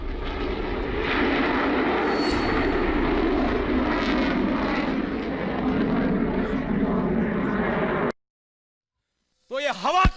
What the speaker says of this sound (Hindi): तो ये हवा को चीरते हुए भारतीय रफाल विमान, आवाज सुनी आपने।